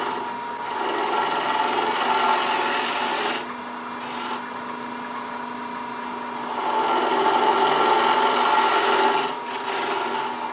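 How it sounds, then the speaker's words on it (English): A 3/8 inch swept-back bowl gouge thins a contrasting wood insert on a lathe, making a continuous close scraping hiss that rises and falls as the cut pauses briefly and resumes. "I'm using this 3/8 inch bowl gouge, swept back bowl gouge, and I'm just gonna"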